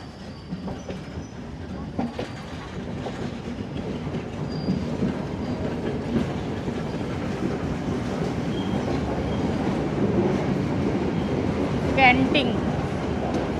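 A passenger train pulls out of a station in Sri Lanka, its wheels building into a steady clickety-clack that grows louder as it gains speed, with a brief squeal near the end and voices faintly in the carriage.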